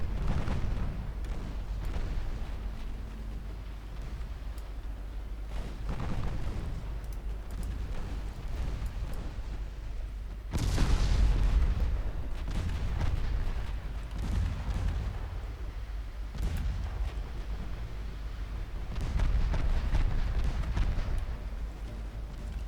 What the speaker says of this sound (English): now my battleships can start hitting the enemy battleship